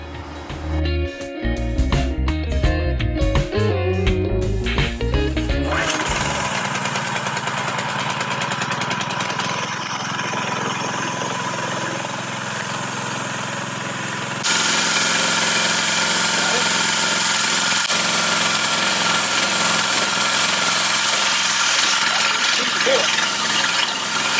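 A Baja mini bike's small engine, fitted with a replacement carburetor, stutters through starting attempts, then catches and runs at a fast, buzzy idle close by, with a brief voice partway through.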